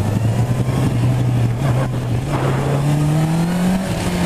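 A Honda CB 650 R motorcycle engine holds steady at around 4000 rpm while riding, a continuous loud drone with pitch slowly rising, close and unbroken, with no talking.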